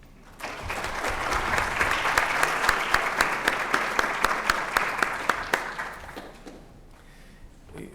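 An audience applauds the faculty dean at a law school book presentation in Peru, steady full-room clapping that starts abruptly, holds for about six seconds, then tapers off.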